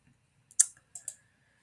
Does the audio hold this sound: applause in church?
no